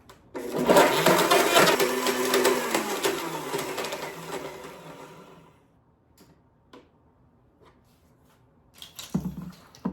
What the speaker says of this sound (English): we're just gonna turn this on for a minute and blend up the eggs with the oranges